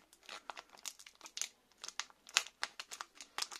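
A Pokémon XY Vigueur Spectrale booster pack wrapper is torn open up close, with a rapid run of sharp foil crinkles and tearing rips in uneven bursts.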